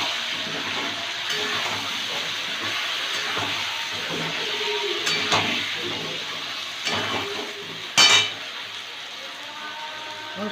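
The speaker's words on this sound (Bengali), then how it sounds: "আলুটা ভাজা হয়ে গেছে, এবার ওই মশলাটা মাঝখানে ফাঁকা করে দিয়ে দেবো।" Spices hit fried potatoes in a pan for aloo dum, making a steady, close hissing sizzle with a sharp clink near the end.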